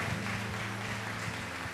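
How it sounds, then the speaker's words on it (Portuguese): A church congregation clapping together, a short burst of steady applause with a low musical hum underneath. "E dá uma salva de palmas para Jesus"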